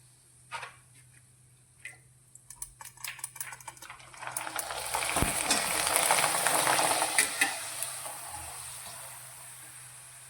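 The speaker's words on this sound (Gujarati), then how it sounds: "તેથી આપણે થોડા પાપડ તળી લઈશું" Rice papad frying in hot oil: scattered crisp pops at first, then a rising, dense, hissing sizzle that swells and holds near the pan before easing slightly, with no voices.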